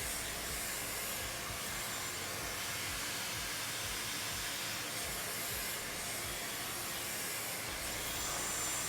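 Hair dryer blowing steadily during a brush blowout, its nozzle pointed down the hair to smooth it; a continuous broadband airflow hiss that stays close and loud for the full length, with no voices.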